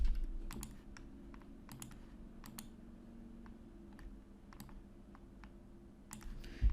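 Sharp computer mouse clicks, several single and double taps, sound faintly over a quiet low hum with no talking.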